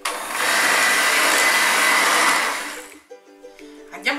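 An electric mixer whirs steadily through plumcake batter for a final mix, loud and close for over two seconds, then cuts off, leaving faint clinks and a voice at the end.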